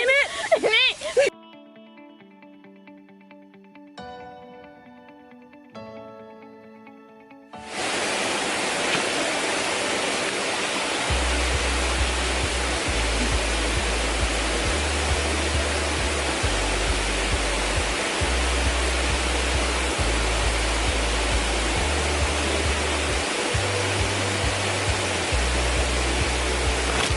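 A waterfall heard from very close on an autumn hike roars as a loud, dense, unbroken rush that starts abruptly after a quieter stretch and then holds steady to the end.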